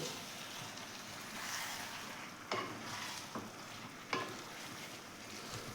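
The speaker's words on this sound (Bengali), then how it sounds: "খাসির মাংসটাকে ধুয়ে নুন হলুদ মাখিয়ে রেখেছি সেটা দিয়ে দিলাম ভালো করে কষবো" Salted, turmeric-rubbed mutton sautéing in a hot pan for a Bengali mutton curry, giving a steady broad sizzle with a few sharp scrapes of stirring, no voices.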